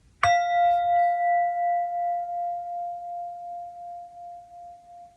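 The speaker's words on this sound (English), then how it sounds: "let's chime the Tibetan bowl" A Tibetan singing bowl is struck once and rings out alone, a bright metallic strike settling into a long, steady humming tone that slowly fades and pulses over several seconds.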